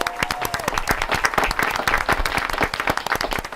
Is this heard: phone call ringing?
no